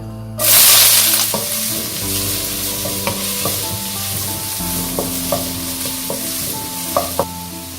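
Chopped onions and slit green chillies hit hot oil in a pan for Kerala-style beef fry with a loud burst of sizzle, settling into a steady close frying hiss with occasional stirring knocks and faint tonal background.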